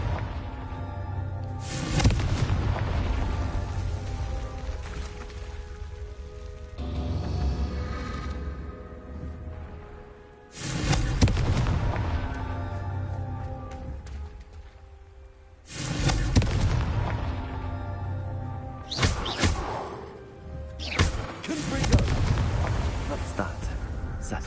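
Confringo fire spells burst in Hogwarts Legacy, with several heavy booming explosions about every five seconds, each rumbling off before the next, while a player's voice speaks between them.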